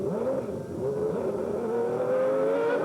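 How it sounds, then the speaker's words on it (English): Alain Prost's 1991 McLaren Formula 1 car with a faulty gearbox, engine droning loud and close with wavering pitch and uneven revs as it hunts for gears. "Meanwhile, Alain Prost's gearbox wasn't right. Listen to him looking for gears."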